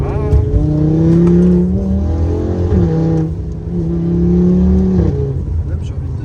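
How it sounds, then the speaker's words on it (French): A stage 2 Audi RS3 8P engine revs loudly and close, its pitch climbing and falling in two long sustained pulls with a brief dip between them, while people talk over it. "c'est pas un bruit de RS3 8P d'origine ça"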